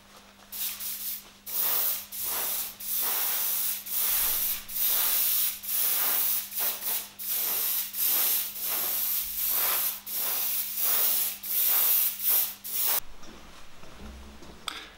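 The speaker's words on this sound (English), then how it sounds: "My airbrush has not such a crazy boost, but it will spray exactly the red color on these small parts." An airbrush sprays red paint onto small parts of a Trek Madone bike in bursts, a close, steady hiss repeated about twenty times with short gaps between, then stopping near the end over a low background hum.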